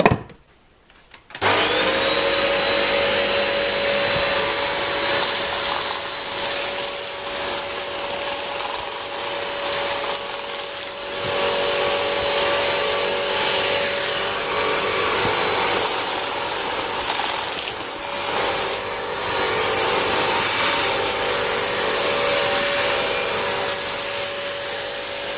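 A Bissell CrossWave 17132 wet-dry vacuum cleaner switches on after a brief quiet moment and runs continuously with a loud whine and whir while cleaning up dust, with occasional scrubbing surges.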